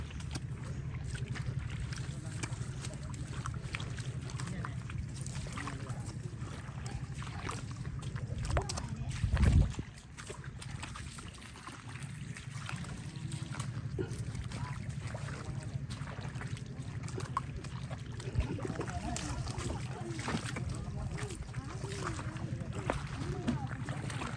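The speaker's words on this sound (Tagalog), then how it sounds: "sasakay tayo ng bangka na maliit" Small rowboat moving across water with gentle sloshing and wind buffeting the microphone, occasional knocks, and people talking faintly throughout.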